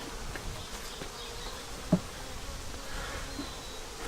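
Angry honeybees in a bee yard, a dense steady swarm buzz at close range, with a brief knock partway through and no talking.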